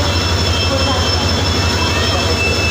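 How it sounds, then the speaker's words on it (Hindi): A heavy train locomotive engine arrives with a steady, loud low rumble and droning hum, continuous throughout at a railway station. "और ट्रेन का इंजन आया"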